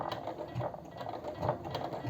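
A sewing machine fitted with a thicker needle stitches leather at a steady, fairly quiet rhythmic patter, heard alone for about two seconds.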